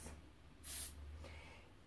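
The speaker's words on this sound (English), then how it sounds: "I'm going to add a spray, some silicone into these colors." A single short, faint hiss of silicone aerosol spray onto acrylic paint, loud and bright for under half a second, with a quieter second puff after, in near silence.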